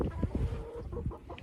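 A loose backyard hen clucks in soft, irregular bursts close by, with low rustling and handling noise around the calls.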